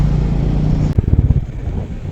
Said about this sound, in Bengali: বাইক চালিয়ে বালির ঝড়ের মধ্যে দিয়ে আমরা যাচ্ছি